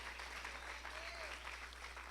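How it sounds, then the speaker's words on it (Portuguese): A church congregation applauds steadily at a worship service, a dense, even wash of clapping that holds without a break while a voice speaks faintly underneath. "Pode aplaudir mais forte."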